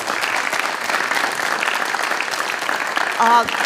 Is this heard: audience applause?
yes